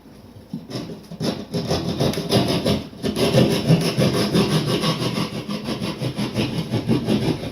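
A saw cuts open a ceiling back toward the rafters to reach a toilet leak, with steady close rasping strokes running almost continuously after a few brief starts.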